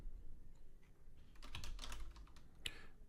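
Quiet, rapid clicking of keys on a computer keyboard, with a short flurry of keystrokes in the middle and one sharper tap near the end, over low background hum.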